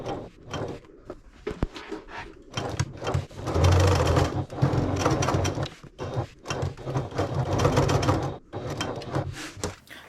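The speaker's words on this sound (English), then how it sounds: "we're going to top stitch around all 3 sides of the outer perimeter of the front pocket" A sewing machine runs in bursts as it top stitches around the front pocket of a backpack, whirring rapidly with brief pauses and mechanical clicks between runs.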